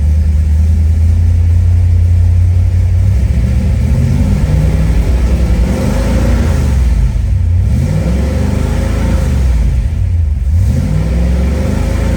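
A V8-swapped Mazda Miata engine runs loud and close in a shop, holding a steady idle rumble before being revved toward 3,000 RPM twice, each rev rising and falling smoothly.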